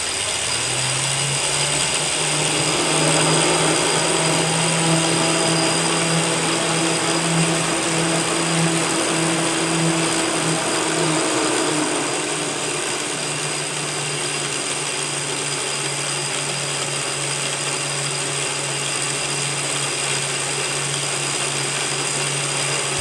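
A de Havilland Mosquito aircraft piston engine runs steadily and loudly up close, a constant droning hum with a strong low tone that dips slightly in pitch about halfway through, with no talking.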